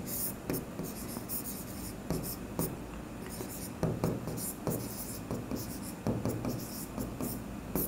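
Pen writing on paper during a Bengali accounting lesson, steady scratchy strokes in short bursts, close and fairly soft, with quiet talk in between.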